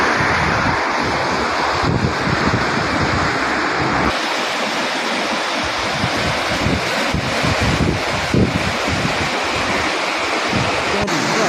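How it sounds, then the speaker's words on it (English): The Swat River in Pakistan, in high flood and spilling onto a road, makes a steady, loud, broadband roar of rushing water that lasts throughout. Heavy wind buffeting on the microphone is heard over it. "The Swat River is experiencing a high-level flood."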